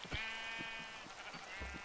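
A sheep bleats in the Minecraft video game, a few quavering cries in quick succession, heard faintly and alone with no talking.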